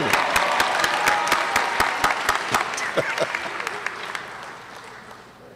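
Applause at an honors ceremony: a crowd claps with sharp individual claps standing out, fairly strong at first and thinning and fading toward the end.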